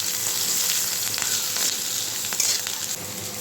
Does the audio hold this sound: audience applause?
no